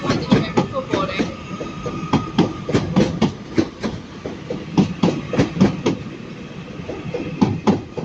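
A Class 156 diesel train pulling out of Manchester Piccadilly station, its wheels giving a steady run of loud clickety-clack beats over rail joints, close and continuous.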